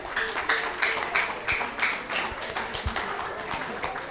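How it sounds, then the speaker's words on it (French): A church congregation at a Sunday worship service applauds with dense, steady clapping that rises and falls in waves, with scattered louder claps on top. "Your ovation seems to be an approbation."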